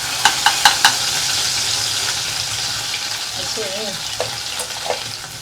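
Cumin seeds sizzle in hot oil as a tempering for undhiyu, a steady frying hiss with a few sharp stirring clicks near the start and light utensil taps later.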